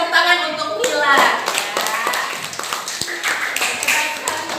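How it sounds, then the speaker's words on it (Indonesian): Students in a classroom clap briefly for a classmate. The quick, scattered claps sound close by and mix with a teacher's speaking voice. "kasih tepuk tangan untuk Mila."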